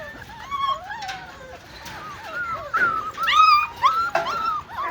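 Pups in a kennel whimpering and yipping, several high wavering whines and squeals overlapping close by, growing more insistent toward the end.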